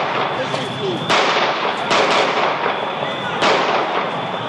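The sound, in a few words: gunshots fired by police officer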